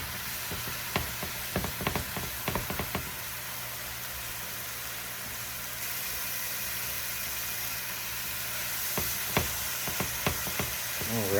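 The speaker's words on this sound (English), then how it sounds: "Alright, this is browning up pretty nice." Ground beef browning in a pan for stuffed bell peppers, a steady soft sizzle underneath with clusters of scraping and tapping from a utensil at the start and near the end.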